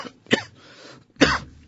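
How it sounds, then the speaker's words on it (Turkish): A patient in a doctor's examination in a radio drama gives two short, loud coughs about a second apart, close and dry, with nothing else heard. "Öksürün."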